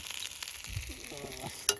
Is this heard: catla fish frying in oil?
yes